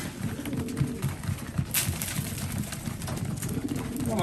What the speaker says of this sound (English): So these pigeons have had to work.